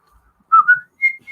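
A person whistles a short, clear tune indoors, two quick sliding notes followed by two brief higher notes, loud and close with silence between.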